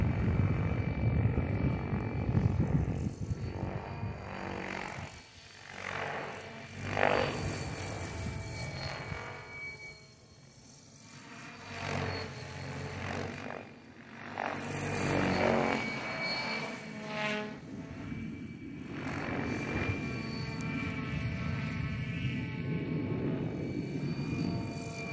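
A Protos 700 RC helicopter flies outdoors, its high-pitched rotor and motor whine rising and falling as it moves nearer and farther, with no talking.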